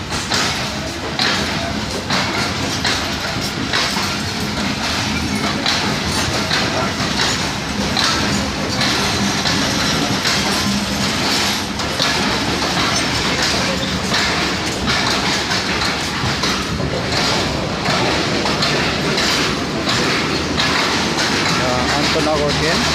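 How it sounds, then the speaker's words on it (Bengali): An intercity train departing Natore railway station for Dhaka rushes past at good speed, a steady loud roar with rhythmic clickety-clack of wheels on rail joints filling the whole stretch. "আন্তনগর ট্রেন"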